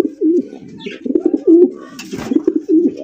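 A male racer pigeon coos loudly and close by in a series of rolling, throaty calls with short gaps between bursts, with no talking.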